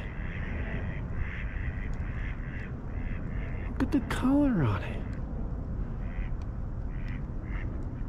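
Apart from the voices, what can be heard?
duck quacking at a lake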